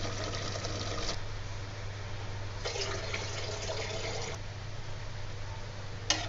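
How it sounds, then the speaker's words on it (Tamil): Water poured into rice in a pressure cooker for seeraga samba chicken biryani: a continuous watery rush in bursts, splashing and filling, under a steady low hum from the kitchen. "இப்போ நான் தண்ணி ஆட் பண்ணுறேன்"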